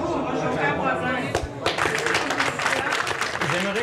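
Applause from an audience at a public meeting, a sustained wash of many hands clapping with crowd murmur mixed in, steady and moderately loud throughout.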